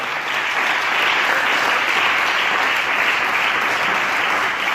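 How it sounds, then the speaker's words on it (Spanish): A church congregation gives loud, sustained applause for the Lord, a dense, steady wash of clapping that fills the room evenly from start to finish without letting up. "Denle un aplauso fuerte a nuestro Señor"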